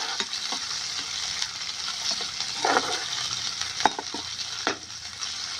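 Onions and cumin frying in a pan for leftover fried rice, browning toward golden: a steady close sizzle broken by occasional stirring scrapes and clinks, with no talking.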